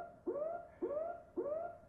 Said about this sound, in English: So that was just a siren that kind of just ended up making it in there.